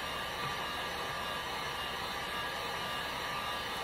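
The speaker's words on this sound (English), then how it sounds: "You wanna make sure that you move your heat gun." A heat gun blowing hot air over a custom glitter tumbler, a steady, even rushing hiss that stays constant and close for a few seconds with no voices.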